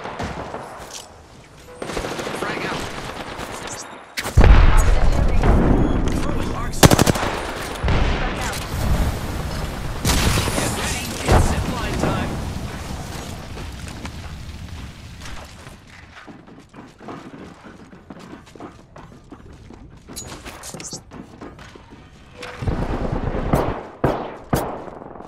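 Loud, close gunfire from Apex Legends, with long automatic bursts, rapid single shots and booming hits that come in dense waves, then drop off and return toward the end.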